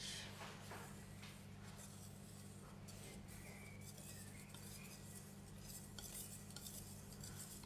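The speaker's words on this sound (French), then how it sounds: "On peut mélanger un peu plus vite." A utensil stirs chocolate macaron batter in a bowl, quiet scraping and light clinks against the sides, soft and close over a low steady hum.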